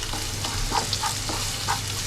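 Garlic and ginger fry in a pan on a gas stove, giving a steady close sizzle with soft crackles and a few stirring scrapes throughout.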